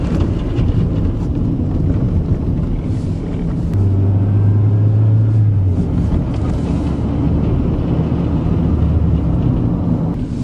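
Steady interior rumble of a ride in a gas 2.0 Volkswagen Jetta, with constant road and engine drone, wind noise and a brief low hum partway through, and no talking.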